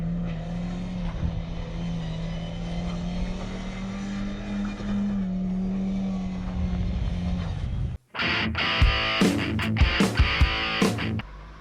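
A Daewoo Nexia engine drones steadily with a rising pitch, then cuts to a burst of loud, scrappy tyre and engine noise with sharp spikes, like a car breaking into a skid.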